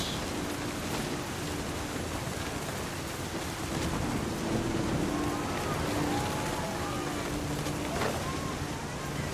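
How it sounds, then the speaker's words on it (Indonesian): Steady heavy rain hisses throughout a stormy scene in the game What Remains of Edith Finch, with low rumbling thunder rolling underneath and a few faint chirping sounds. "Sambar petir, jir."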